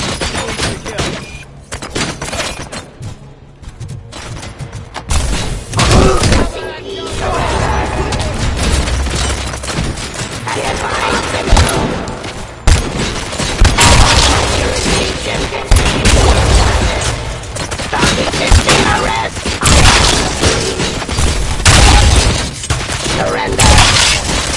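Relentless video game gunfire rattles without pause, with booming impacts, shattering and mechanical clatter layered into a loud, dense barrage that lasts throughout.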